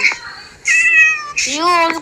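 Cats meow in a Minecraft game, three loud, close, drawn-out meows in quick succession, the last rising and stretched, with short quiet gaps between them.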